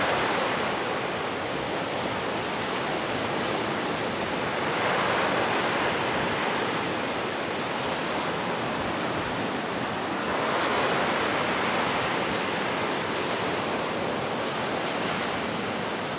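Sea waves break continuously on a deserted beach on Denmark's west coast, a dense steady roar of surf with gentle swells in loudness and faint wind, no voices.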